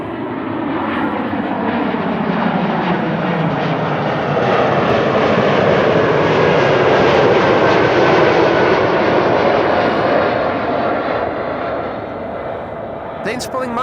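A jet airliner on final approach to Amsterdam Schiphol Airport passes low overhead. Its engine roar swells steadily and then fades, with a voice talking over it.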